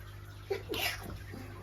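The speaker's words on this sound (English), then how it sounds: "Sneeze attack." A single short sneeze bursts out indoors beside a small 30-litre betta aquarium, a sharp breathy burst followed by a brief trailing exhale over faint background hum.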